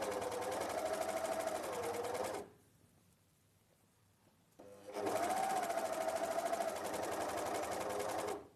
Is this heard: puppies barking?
no